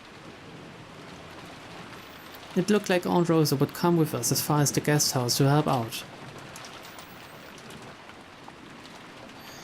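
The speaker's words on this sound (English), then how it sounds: "It was raining hard outside" Heavy rain falls outside in a visual novel scene, a steady soft hiss running the whole time while a voice talks loudly over it for a few seconds in the middle.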